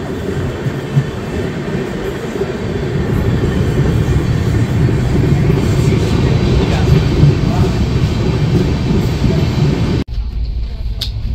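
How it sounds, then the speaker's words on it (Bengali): Steady rumble of the Rupasi Bangla Express departing Chandrakona Road station, with rhythmic rail clatter, building as it gets under way, then cutting abruptly near the end. "চন্দ্রকোনা রোড থেকে ট্রেন ছাড়লো"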